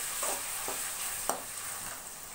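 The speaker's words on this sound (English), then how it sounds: "Mix well" A spatula stirs fried onion and ginger garlic paste in a hot pan: a soft continuous sizzle carries three or four quick scraping strokes, one sharper clack near the middle, close and without any talk.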